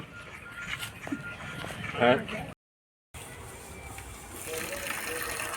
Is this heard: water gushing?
yes